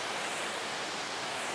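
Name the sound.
waterfall, water coming off the falls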